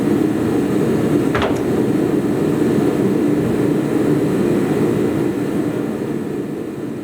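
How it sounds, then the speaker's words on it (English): A torpedo heater runs steadily in a garage workshop, giving a constant broadband roar and hiss that holds level throughout with no talk over it. "that's the sound of my torpedo heater in the background"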